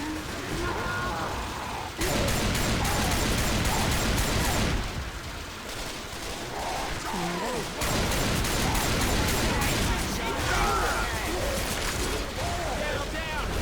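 Sustained gunfire in the zombie shooter Left 4 Dead 2, steady rattling shots and explosions across the whole stretch, with a few brief lulls and a surge of heavier firing, loud and close, while players talk over it.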